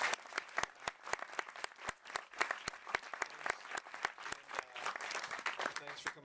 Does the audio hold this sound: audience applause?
yes